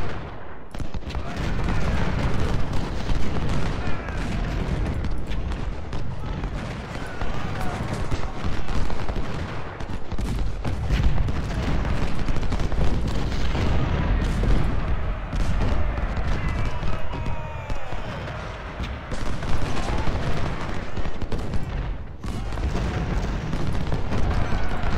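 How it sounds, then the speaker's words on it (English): Civil War cannon fire during the Battle of Richmond in Ultimate General: Civil War booms repeatedly through a dense, continuous din of crackling musket volleys. The heavy reports arrive irregularly and stay loud throughout. "Those cannons."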